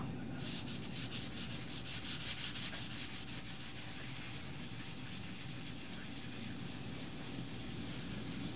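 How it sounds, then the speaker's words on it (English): A sponge rubs excess dye off the back of a calf leather wallet, giving a faint, steady scrubbing and wiping sound with quick rhythmic strokes at first that then soften. "Now if we want to go a little bit heavier, we'll use maybe a sponge and get the excess off there."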